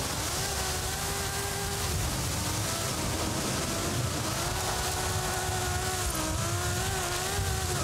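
A car engine drones and revs steadily in Forza Horizon 5, its tone climbing and dipping with shifts over broad road and wind noise. The sound is loud and continuous, with no speech.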